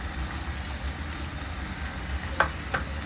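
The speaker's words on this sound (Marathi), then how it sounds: "आता परत एकदा चांगलं हलवून घेते" Chopped onion and tomato with salt fry in a pan for bhogi bhaji, a soft continuous sizzle with two brief sharp scrapes of a spoon near the end, close and quiet.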